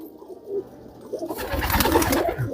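Kagzi pigeons coo softly at close range, followed by a burst of noisy rustling or fluttering.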